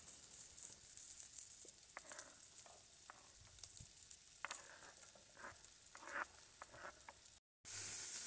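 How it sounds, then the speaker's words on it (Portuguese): Bacon, calabresa sausage, garlic and onion fry in a pan with a close, steady crackling sizzle and scattered pops, cutting out briefly near the end. "Aqui eu coloquei um bacon para fritar, calabresa, caldo quinoa, cebola, alho"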